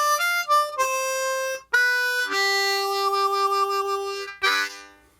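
Harmonica lick over a blues change to the IV chord, a run of sustained draw and blow notes moving step by step, loud and close, ending with a bent, breathy final note; no talking.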